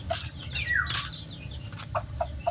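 Gamecock roosters in a pen around feeding time give short, close clucks and one sliding, rising call over a low background murmur.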